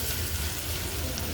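Tomato masala cooked with chili, cumin and coriander powders frying in a pan, giving a steady, soft, even sizzle with no talking.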